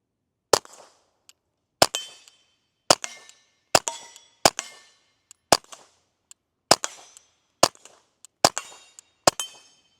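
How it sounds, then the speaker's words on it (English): A Ruger Mark IV 22/45 Lite pistol fires a string of sharp, loud single gunshots at irregular intervals, each crack followed by a short ringing echo. "Ten more rounds downrange."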